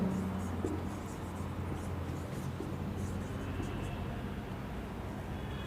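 Chalk or marker scratching steadily on a classroom board during a physics lesson, faint and continuous, with low background hum and little talking.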